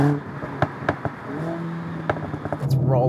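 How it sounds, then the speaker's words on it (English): Mercedes-AMG A45 S exhaust in Sport Plus mode, a sharp rear exhaust note with several short pops and barks over a steady engine drone, heard beneath someone talking. "you know that the car means business because it's much louder out of the rear as well"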